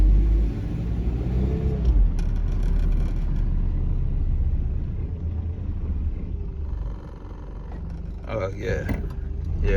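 A Nissan D21 truck with new brake pads rolls along with a low engine rumble and road noise, easing down as it slows, with someone briefly talking and faint clicks near the end.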